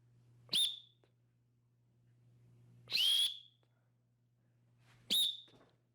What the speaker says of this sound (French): quand je vais siffler, comme ceci